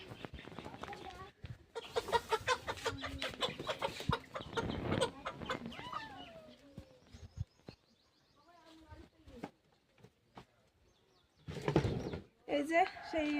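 A hen taken out of a room clucks and cackles in a run of rapid, close calls, pausing and resuming, with people talking nearby.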